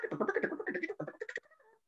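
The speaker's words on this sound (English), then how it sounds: "Purple martins make these chattering calls, sounds like this." Purple martins give rapid, gurgling chattering calls in a short burst at moderate distance, a run of bubbly notes that trails off into softer warbles.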